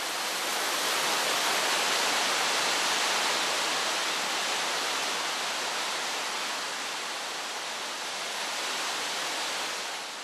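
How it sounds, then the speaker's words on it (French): Chara river emerging from an underground cave into open air near Taza, a dense, steady rushing roar of flowing water, loud and continuous with slight swells. "La rivière Chara, qui était souterraine, se montre et sort à l'air libre et qui donne la rivière Kawan."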